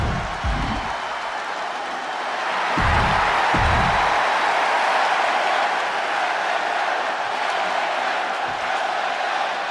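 Cheering from the arena crowd in a wrestling video game holds as a loud, steady roar throughout, with a few low booming hits early on and no talk.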